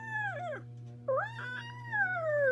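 A prairie dog in its badlands territory gives a high, wavering call in two drawn-out rising and falling yelps, close and alone over a steady low hum.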